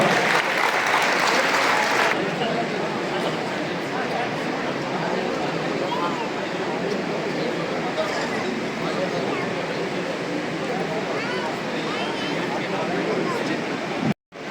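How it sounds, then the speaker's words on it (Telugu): Sustained applause from a crowd at a Kargil Vijay Diwas event in Palamuru, dense and steady for about fourteen seconds, cutting off abruptly at the end. "సెక్రటరీ గారికి చప్పట్లతో స్వాగతం"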